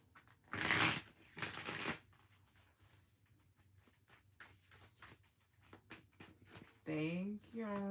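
Two brisk bursts of tarot cards being shuffled, crisp riffling up close, followed by quiet handling and a voice speaking at the end.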